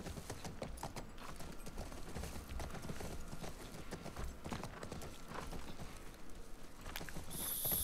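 Horse hooves clop steadily through a steady bed of game sound in The Last of Us Part 1, a continuous run of close, regular hoofbeats with no talking.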